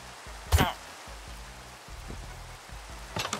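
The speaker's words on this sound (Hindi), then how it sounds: "तो आज की रात तो बारिश आ गई है" Rain falls in the video game Minecraft as a steady soft hiss under low in-game tones, with a few sharp clicks and someone speaking briefly.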